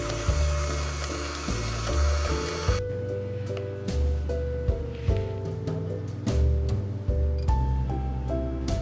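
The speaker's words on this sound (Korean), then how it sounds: "색깔이 살짝 뽀얗게 변할 때까지 믹싱을 할게요." An electric stand mixer kneads soboro bread dough, a steady mechanical whir with rhythmic thumping as the dough slaps around the bowl, continuous and close.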